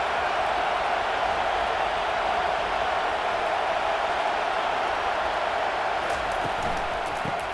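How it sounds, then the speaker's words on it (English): Steady stadium crowd roar from the EA Sports College Football 25 video game, a continuous dense wash of many voices holding at an even loudness throughout with no clear peaks. "This crowd bringing the energy and noise early."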